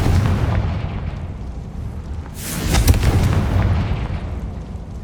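A loud fiery blast erupts midway as the Confringo fire spell is cast in Hogwarts Legacy, a sharp burst swelling then fading into rumbling game ambience.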